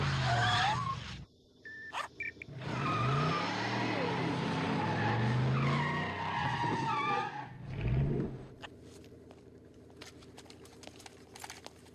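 A car skids with loud, drawn-out tire squeal and engine roar close by, the screech rising and falling for several seconds before fading into steady background noise, with a person shouting over it.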